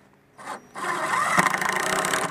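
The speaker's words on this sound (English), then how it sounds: "Now we're going to screw in for spacing." A power drill whirs briefly, pauses, then grinds steadily as a screw drives into cedar wood on a dock, close and loud, with a rough rasping texture.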